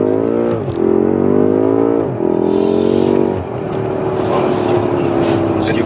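A BMW M5 F90 engine revs hard with a loud, rising exhaust note, then drops and builds again while driving, with crackle through the exhaust near the end.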